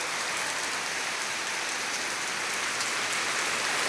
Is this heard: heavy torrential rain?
yes